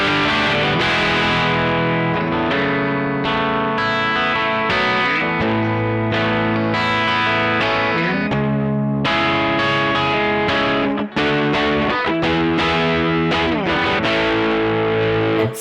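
Gretsch G5622T semi-hollow electric guitar with a Bigsby, volume at full, played loud and continuous with thick overdriven chords and ringing sustained notes, no voices.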